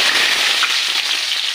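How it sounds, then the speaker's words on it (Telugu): Tempering spices for sambar crackle and sizzle loudly in hot oil: dried red chillies, mustard seeds, cumin, garlic and curry leaves. The spitting, popping sizzle is close, dense and steady throughout, with no voices. "ఇందులో ఇప్పుడు తాలింపు అన్నీ వేస్తున్నానండి."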